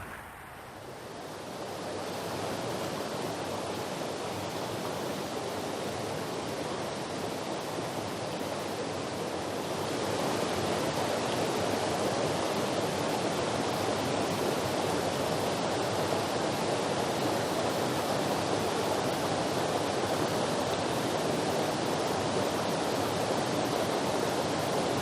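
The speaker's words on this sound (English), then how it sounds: "we turned the car around and came down by the brook here" A brook flows through a volcanic caldera beside a mountain road, giving a constant broadband rush of water that swells to a fuller, louder roar partway through.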